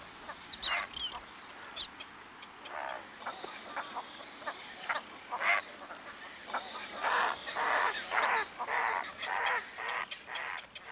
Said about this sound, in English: Another long-billed resident of the swamp, the limpkin, calls to her young.